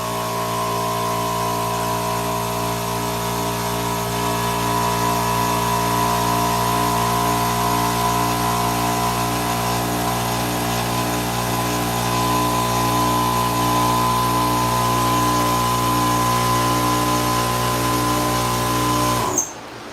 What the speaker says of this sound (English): Let the air compressor go off, AJ, and I'll answer you.